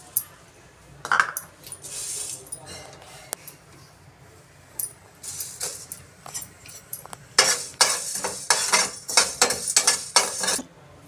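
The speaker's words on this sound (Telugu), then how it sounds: "ధనియాలు వేపుకోవాలి." Coriander seeds roast in a pan while a spoon stirs them, giving light metallic scrapes and clinks that come in scattered bursts, busier toward the end, over a faint background.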